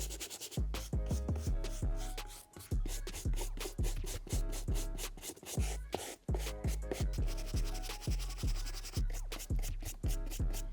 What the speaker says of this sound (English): When you brush the suede back and forth, you can see the texture.